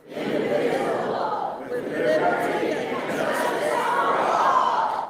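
A restless, rowdy crowd at a Texas city council meeting, a steady din of overlapping chatter with scattered chuckles and laughter rising and falling across the room.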